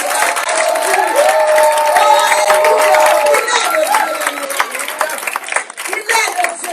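A church congregation at a Sunday service cheers and claps loudly and steadily, with sung or shouted praise over the sustained crowd applause.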